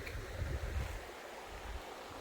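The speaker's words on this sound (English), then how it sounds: "It's a stream of running water." Bass Canyon Creek, a small stream of running water in a canyon, gives a soft, steady wash with low rumbling gusts, faint and continuous with no talking.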